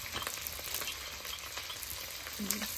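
Fish sizzling in hot oil in a wok, a continuous crackle with occasional soft clinks and scrapes, close and fairly quiet.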